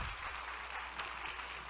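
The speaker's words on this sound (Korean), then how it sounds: "뜨겁게 박수하겠습니다" A church congregation applauding in the sanctuary, a steady, dense wash of clapping that fills the short moment at a moderate, somewhat distant level.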